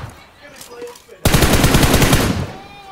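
Loud burst of automatic gunfire in a first-person shooter video game, a sustained rapid volley lasting over a second after a quieter stretch of background game sound, fading out at the end.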